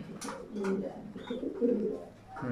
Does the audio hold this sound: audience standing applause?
no